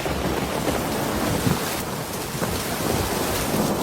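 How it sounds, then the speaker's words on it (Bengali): Heavy rain pours down steadily and loudly in a storm, with low rumbles of thunder rolling beneath the dense hiss of falling water; no voices are heard. "হায় আল্লাহ, এই দেখছি অনেক জোরে বৃষ্টি হচ্ছে।"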